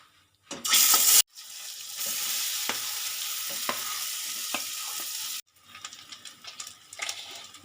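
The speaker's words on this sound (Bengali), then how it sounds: "জিরেটাই দেখুন সুন্দরভাবে ভাজা মতন হয়ে গেছে এবার আমি কাঁঠাল দানা পেস্টটা দেবো" Jackfruit seed paste hits hot oil with cumin seeds in a pan for a Bengali dhoka dalna, giving a sharp hiss, then a steady close sizzle with stirring clicks, a brief pause and quieter frying.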